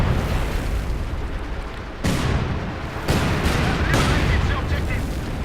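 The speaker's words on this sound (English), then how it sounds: "calling in some artillery to protect the point" Artillery barrage in Company of Heroes 2 gameplay: a dense, loud rumble of booming shell impacts and explosions, with sharp bursts cutting through around the middle and later in the sequence.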